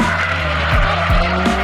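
A drifting car's engine roars steadily while its tires squeal in repeated sliding bursts, loud and close, with no talking.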